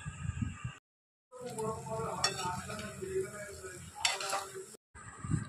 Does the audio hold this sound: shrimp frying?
yes